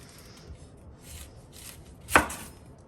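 A kitchen knife chops an onion on a board while carne asada tacos are being made: faint scrapes and taps, then one sharp, clear chop near the end, with no talking.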